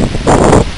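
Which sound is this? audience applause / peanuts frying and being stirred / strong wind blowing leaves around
strong wind blowing leaves around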